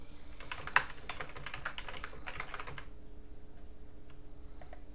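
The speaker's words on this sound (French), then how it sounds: "La preuve, j'appuie sur la touche A." Keystrokes on a computer keyboard set to a French layout during an MX Linux 16 installation, a quick burst of clicks with one sharp louder tap, then quieter scattered taps over a steady hum.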